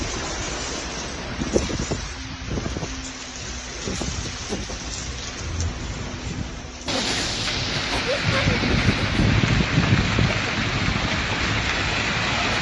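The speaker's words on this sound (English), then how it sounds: "Whoa, that hail is getting bigger." In a severe storm with baseball-size hail, large hailstones fall in a dense, continuous clatter that grows louder and heavier partway through, mixed with roaring rain and wind.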